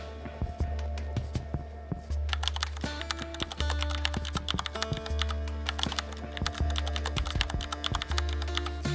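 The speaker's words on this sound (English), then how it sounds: "On the Pinterest search bar, type a phrase like wallpaper for laptop." Rapid clattering keystrokes on a laptop keyboard, close and continuous, with uneven bursts of taps and occasional heavier key presses over a low steady hum.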